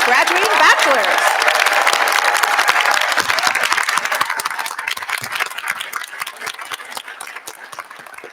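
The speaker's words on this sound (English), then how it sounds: "Please join me in giving a round of applause to the Asian and Pacific Islander class of 2022 graduating bachelors." Audience applause at a graduation celebration for the 2022 Asian and Pacific Islander class of bachelor's graduates, a dense, loud crowd clapping that starts strong and slowly thins and fades toward the end.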